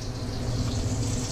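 Water runs steadily from a kitchen tap, a continuous close rushing splash with no breaks and no talking.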